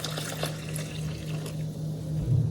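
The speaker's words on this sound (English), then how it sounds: "We're going to go in with warm water." Warm water is poured into masa flour for corn tortillas, a soft continuous trickle and splash heard close up for a couple of seconds against a low background hum.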